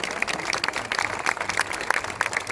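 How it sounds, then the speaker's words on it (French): Spectators applauding at a French mountain bike cross-country eliminator championship podium in Ploeuc-l'Hermitage: dense outdoor clapping, fairly loud and continuous, with some scattered louder claps. "les applaudissements, s'il vous plaît"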